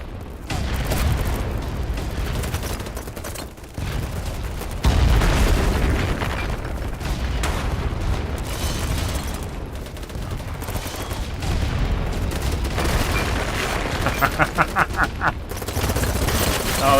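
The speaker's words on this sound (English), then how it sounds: "Hand grenades." Hand grenade explosions in a first-person shooter game thump among rattling automatic gunfire and scattered bursts, with a low boom near the middle and a quick run of pops near the end, while a person talks throughout.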